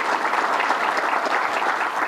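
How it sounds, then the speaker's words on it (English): An audience at a governor's public event claps in dense, sustained applause that holds steady and loud throughout, with no voices standing out. "Let's give her a big round of applause"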